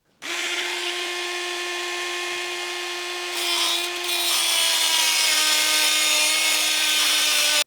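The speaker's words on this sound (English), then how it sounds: "I got my Dremel out and just cut the side of the nut" A Dremel rotary tool cuts into the side of a nut during an engine removal, a steady high-pitched whine running alone and close for several seconds, shifting tone and growing harsher as the cutting wheel bites into the metal.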